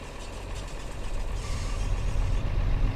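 An old Ford F-150 pickup on an abandoned homestead, its engine catching and settling into a steady, close rumble that swells after the first second.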